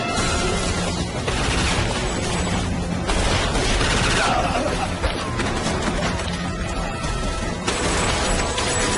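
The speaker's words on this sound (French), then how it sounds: "Fusillade!" Dense gunfire from a fusillade in a TV action series, with rapid overlapping shots and crashes forming a loud, continuous barrage throughout, mixed with other action noise.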